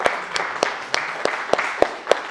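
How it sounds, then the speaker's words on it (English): An audience gives a round of applause at a wellness seminar: a small group's sparse, uneven claps, fairly close and moderately loud, with no talking. "So let's give Woody a round of applause."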